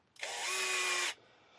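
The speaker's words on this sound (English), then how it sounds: "So I use a drill" A power drill whirs steadily for about a second at close range, spinning up sharply and cutting off, while work is done on turnbuckles and links for a crawler build.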